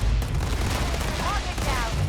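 Sustained gunfire in a space-themed video game, a continuous loud barrage of rapid shots with no pause.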